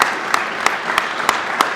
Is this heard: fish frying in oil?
no